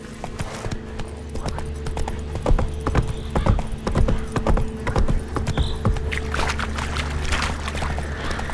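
Horse hooves clip-clop in a steady rhythmic gait across a ground surface in The Witcher 3 video game, loud and close, with faint ambient tones underneath.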